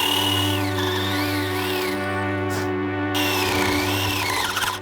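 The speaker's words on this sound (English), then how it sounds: "I have to drill the holes right up against each other, and this bit does not like it." A power drill whines steadily at close range while boring tightly spaced holes in wood for a prop build, its pitch dipping and shifting as the bit labours, with a brief stall partway through.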